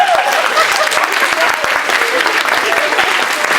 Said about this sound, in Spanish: Un aplauso para Villaseñor.